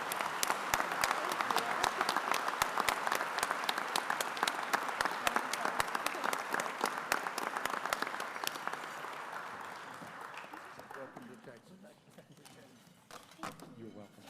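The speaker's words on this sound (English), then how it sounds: "Please give a round of applause for Maury, Nancy, and Alison Gaston." Sustained audience applause at a Grand Chapter gathering following an introduction, dense clapping from a large crowd that holds steady for about eight seconds before gradually thinning and fading out.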